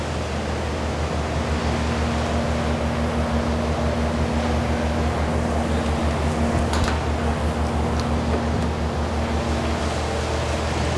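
A Loma IQ3+E metal detector conveyor belt runs with a loud, steady mechanical hum and broadband whir, unbroken throughout, with a faint tick or two near the middle.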